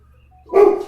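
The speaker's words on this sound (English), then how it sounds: "That's Finn you hear barking there." A single dog bark, loud and close, bursting out after a short quiet stretch with a low hum underneath.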